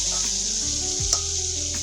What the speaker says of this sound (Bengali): এটাকে এখন কিন্তু আমি ভালো করে ভাজা করে নেব।